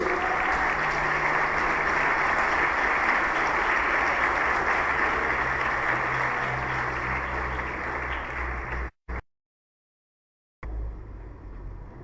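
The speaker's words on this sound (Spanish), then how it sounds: "Denle un aplauso fuerte al Señor" Church congregation applauding for the Lord, loud sustained clapping that cuts out abruptly into a moment of silence before quieter room sound returns.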